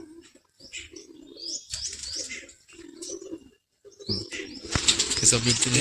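Loft pigeons flap their wings in several quick bursts at close range, with soft cooing and chirps between them and a louder clatter of wings at the end.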